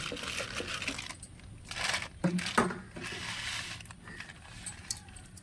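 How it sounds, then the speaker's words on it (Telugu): Coarse rock salt is tipped into a tamarind fish curry cooking over a wood-fired stove, giving a scattered rattle and patter of grains with a few sharper clinks against the pot, fairly quiet and close. "ఇప్పుడు మనం గల్లుప్పు వేసుకుందామండి, సాల్ట్ కాకుండా గల్లుప్పు వేసుకుందాం."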